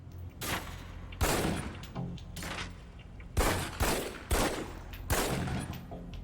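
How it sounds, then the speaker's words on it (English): Pistol fired at a shooting range target in the Alpha Protocol video game, about six or seven sharp, loud, close shots spaced unevenly with a short ringing tail after each. "Equip the pistol, then aim down range and take some shots at the target"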